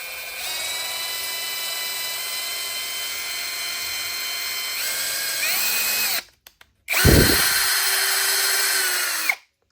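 A high-pitched power drill whines steadily, its pitch shifting near the end, stops briefly, then spins up again with a thump before cutting off.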